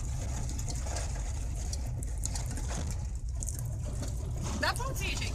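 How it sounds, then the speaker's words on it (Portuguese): Steady low rumble of a car engine running inside the vehicle, constant and fairly loud throughout, with brief higher bird-like chirps near the end and small crackling sounds over it. "É por causa do barulho do carro"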